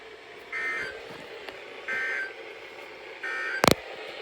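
Three short, steady electronic data bursts from a NOAA Weather Radio Emergency Alert System weekly test, Tallahassee service area, sound about a second apart over faint static, followed by a sharp loud click.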